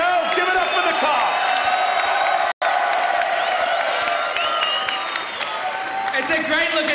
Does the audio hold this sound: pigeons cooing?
no